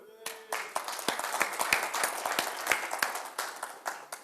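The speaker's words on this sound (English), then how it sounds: "For those, clap, vote, please, for the affirmative." An audience at a speed debate claps to vote for the affirmative, a steady scatter of many hands that rises quickly and continues at moderate loudness throughout.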